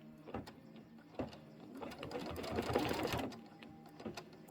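A sewing machine stitches a pie-themed appliqué, its needle running in short bursts with pauses, then a longer steady run in the middle, heard up close and fairly quiet with no talking.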